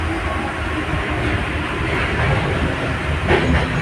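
A Paris Metro line 1 automatic train rumbles along steadily, loud and close, with a continuous roar and faint rhythmic wheel noise from inside the carriage.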